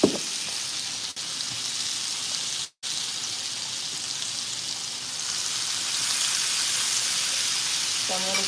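Butter and garlic sizzling in a hot pan, a steady hissing crackle that fills the scene throughout, growing slightly brighter toward the end, with a couple of brief dropouts.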